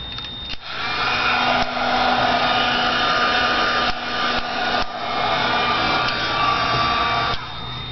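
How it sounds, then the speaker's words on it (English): A heat gun blows hot air over chalk-finish paint on a home decor piece, a steady close whooshing roar that holds for several seconds with a few brief dips, no talking. "I'm going to hit this with the heat gun quickly"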